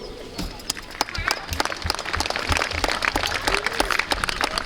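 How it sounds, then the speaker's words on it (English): Applause from the audience at the closing and award ceremony of a WDSF dance world championship, a steady wash of many hands clapping that swells and holds for several seconds, with voices underneath. "Applause for you."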